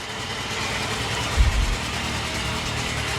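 Carbureted 1998 Yamaha YZF600R Thundercat motorcycle engine idling while warming up, a steady, fairly quiet low rumble with a brief louder blip partway through.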